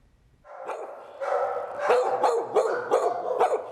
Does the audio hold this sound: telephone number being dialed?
no